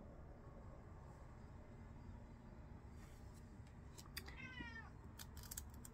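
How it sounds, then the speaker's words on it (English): A faint cat meow near the end, a short rising-falling cry over a steady low background hum. "If you can hear my kitty, she just came in, she's meowing."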